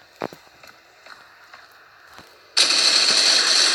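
Gunfire in the mobile shooter game C-Ops: scattered soft steps and clicks, then a sudden loud, sustained burst of automatic fire that continues to the end.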